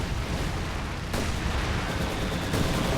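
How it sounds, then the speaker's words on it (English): Company of Heroes 2 incendiary artillery barrage as Soviets fight Wehrmacht: a dense, continuous roar of blasts and gunfire, loud and close throughout, with sharper impacts bursting through near the middle and end. "Nick is coming in clutch with the incendiary artillery barrage coming in"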